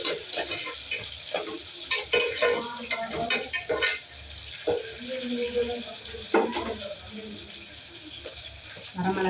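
Curry leaves crackle and sizzle in hot oil while a spoon stirs and scrapes against the pan in irregular bursts, close and fairly loud.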